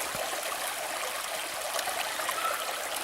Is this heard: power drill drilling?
no